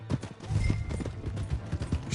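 Hoofbeats of a horse in Red Dead Redemption 2 clop in a steady galloping rhythm, fairly close and loud, with a brief whinny-like tone riding over the pounding steps.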